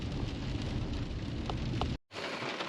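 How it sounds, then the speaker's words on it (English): Steady rain falls on a farm with muddy fields, a dense, even hiss close by that cuts out briefly near the end before resuming. "it's raining"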